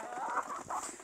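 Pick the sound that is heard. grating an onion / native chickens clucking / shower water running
native chickens clucking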